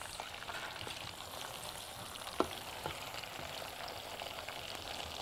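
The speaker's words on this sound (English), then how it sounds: "As you can see, the meat is frying." Meat frying in a pan for a carrot stew, a steady soft sizzle and crackle running throughout with one brief sharp tap, no voices.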